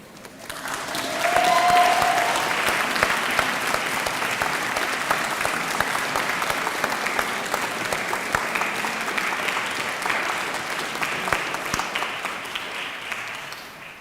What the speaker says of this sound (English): give those families a well-deserved round of applause